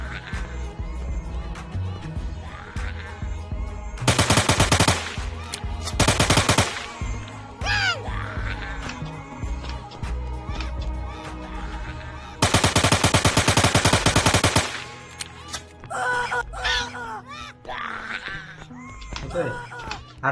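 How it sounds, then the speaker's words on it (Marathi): AK-47 gunfire in a zombie shooter video game comes in two loud bursts of rapid automatic fire over busy game sounds and music, with a person talking in between. "आता काय राहिलंय AK-47 ने आता मारूया."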